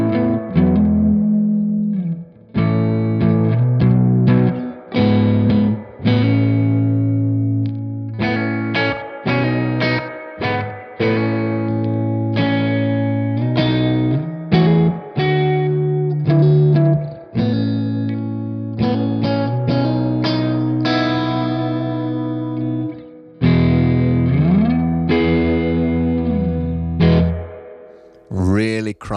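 Electric guitar played through a Safari Pedals Silver Llama amp sim preset with effects, giving a crunchy, distorted tone with chorus and echo, strummed chords and riffs ringing out loud and continuous for about half a minute.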